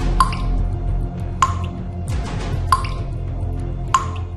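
Water drops fall from the ceiling of a temple sanctum in Kanpur, four separate crisp plinks spaced about a second apart, close and clear over a low steady background hum.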